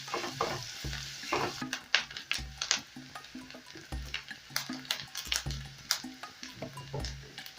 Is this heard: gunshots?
no